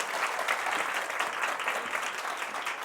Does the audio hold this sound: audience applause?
yes